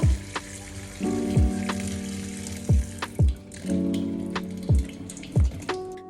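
Running water from a sink tap splashes and gurgles in uneven bursts before the tap is shut off with a tissue, close and fairly loud.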